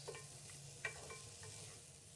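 Chow-chow chutney mixture with coriander being stirred in a pan off the heat, giving a steady soft scraping and gentle sizzle with one louder clink of the spoon, close and alone.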